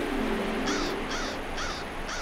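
A crow in a Yakari cartoon caws four times in a steady rhythm, each short hoarse call clear over a constant background music bed.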